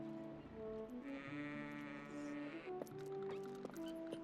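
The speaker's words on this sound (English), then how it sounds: "We're gonna take care of his goats." In the video game Twilight Princess HD, goats on a ranch bleat in several wavering calls, some overlapping, against a soft musical background with no talking.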